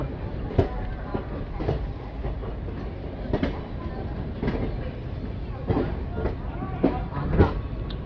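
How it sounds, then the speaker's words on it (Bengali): A Patna to Puri train pulls into Asansol Junction, its rolling rumble steady throughout with periodic clanks and wheel knocks standing out, while a few voices talk faintly nearby. "ফাইনালি ট্রেন এসে পৌঁছালো আসানসোল জাংশন।"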